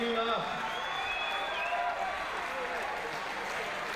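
A crowd at the 2014 IFSC Climbing World Cup lead semi-finals in Kranj applauds and cheers, a broad, steady wash sitting under a commentator's voice, fading slightly toward the end.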